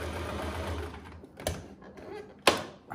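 Sewing machine stitching a welt pocket on a coat or jacket, a soft whirring run followed by two sharp mechanical clacks, quiet and close.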